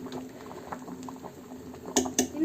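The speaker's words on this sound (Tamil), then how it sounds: "இன்னும் ஒரு 1/4 மணி நேரம் நல்லா வேக விடுங்க." Green gram curry bubbles and simmers in a pot, a soft continuous boil with a couple of sharper pops of bursting bubbles near the end, close by.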